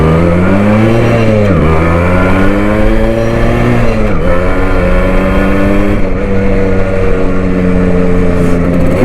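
A Suzuki Shogun motorcycle engine in good condition revs loudly and close, its tone swinging up and down through several throttle blips over a continuous running drone.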